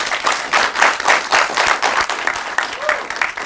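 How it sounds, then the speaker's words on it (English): Audience applause at an insurance recovery-stories event, rippling clapping that swells and fades in waves at moderate distance, with voices faintly mixed in. "please let us clap for Cmab."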